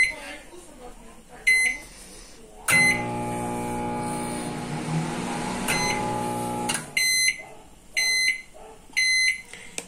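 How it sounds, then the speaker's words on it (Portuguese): A microwave oven hums steadily for several seconds, then stops, followed by a series of sharp, evenly spaced beeps. "vamos levar pro micro-ondas."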